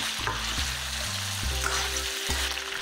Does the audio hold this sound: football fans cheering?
no